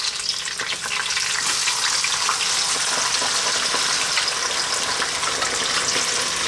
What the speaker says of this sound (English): we're about to add quite a lot of liquid,